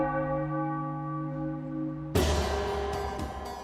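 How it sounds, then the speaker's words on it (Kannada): A sustained ringing tone with clear overtones fades slowly, then a sharp metallic strike rings out, bell-like, followed by a few lighter taps. "ಹೆಸರಿಗೆ ತಕ್ಕನಾಗಿ ಪಕ್ಕ ಚರ್ಚ್ನ ಗಂಟೆಯ ಸದ್ದನ್ನ ಹೊರಡಿಸುತ್ತೆ"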